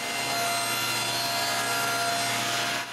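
A hand saw cuts steadily through a piece of plywood, a continuous close rasping stroke that runs almost unbroken from start to finish.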